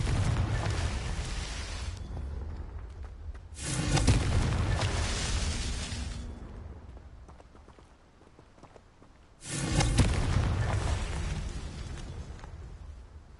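Confringo fire spell blasts in Hogwarts Legacy, two booming bursts a few seconds apart, each swelling into a rumbling roar that slowly fades away.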